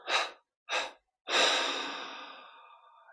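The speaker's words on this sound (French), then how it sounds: "Puis on inspire profondément. 3 expirations." Deep breathing during a guided meditation: two short, close exhalations in quick succession, then a long, slow out-breath that fades gradually into quiet.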